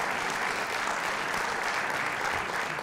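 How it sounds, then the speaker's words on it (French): Audience at a live NBA-themed sports talk show recording in a Paris venue applauding, a dense steady wash of clapping from many hands, fairly close and sustained without talk. "on les applaudit bien fort"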